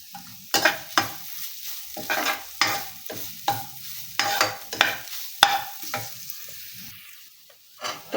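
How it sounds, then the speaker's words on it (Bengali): Grated coconut fries with bay leaf and garam masala in a pan, heard as a soft sizzle broken by rhythmic, close scraping strokes of a spatula stirring at a steady pace. "নারকেলগুলো আমি একটু ভেজে নিচ্ছি"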